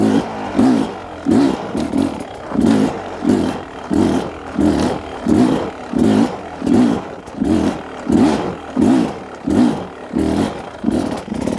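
A dirt bike engine putters at low speed during a slow clutch-control drill, surging and dropping in a steady rhythm of about a dozen brief revs as the clutch is repeatedly pulled and released, close and fairly loud, with no talk.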